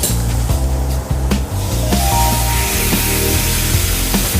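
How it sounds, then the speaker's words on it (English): Kadhai prawn gravy thinned with water bubbles and sputters in the pan, a steady frying hiss punctuated by sharp pops and a few utensil knocks. "There it goes, boiling away, sputter, sputter."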